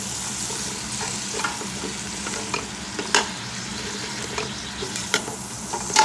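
Bacon and onions frying on low heat are mixed in a pan, with steady close sizzling broken by scraping stirs and occasional sharper clicks of the utensil, no voices.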